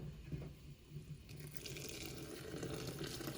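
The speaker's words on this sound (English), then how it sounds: "So I'm going to take my water, my hot water, and I'm just going to pour some in there." Hot water poured from a container into a pot of simmering pinto beans (frijoles de la olla), a steady close splashing pour filling the pot for a few seconds, with no talking.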